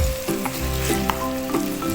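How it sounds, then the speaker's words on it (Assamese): Tomatoes and ginger fry in a pan for aloo sabji, a steady close sizzle with soft stirring scrapes and small pops over it. "আৰু এইখিনিতো অলপমান এতিয়া ফ্ৰাই কৰি ল'ম।"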